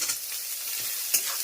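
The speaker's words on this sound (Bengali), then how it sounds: "আলুগুলো একটু ভাজা ভাজা হবে" Potato pieces frying with prawns in a home kitchen wok give off a close, continuous sizzle. Scraping stir strokes run through it, with one sharper clatter of the spatula against the wok.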